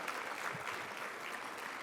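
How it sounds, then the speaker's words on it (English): Dense, steady applause from an audience at a university achievement celebration, a soft wash of many hands clapping heard from some distance. "One more round of applause, please, for everyone here tonight"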